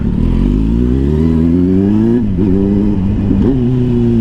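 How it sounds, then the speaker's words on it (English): A Yamaha MT-07 motorcycle engine pulls loud and close on a test ride, revs climbing steadily through a gear before dipping at shifts and rising again. "right now we will get into the test riding of the Mt-07"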